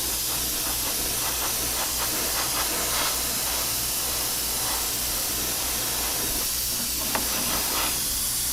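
Continuous airy hiss of an airbrush laying a dusting coat on a car roof, steady and fairly close for the whole stretch, with no talk.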